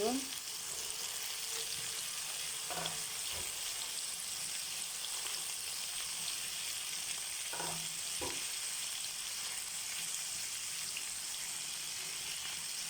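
Bean seeds fry in a pan alongside potatoes for a bitter gourd and bean seed bhaji, giving a steady, even sizzle that runs throughout, broken by a few soft stirring knocks.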